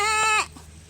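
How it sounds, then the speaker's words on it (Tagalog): A goat on a rural provincial farm gives one loud, wavering bleat lasting under half a second, then it stops and only faint background hiss remains. "Meron kaming kambing dito"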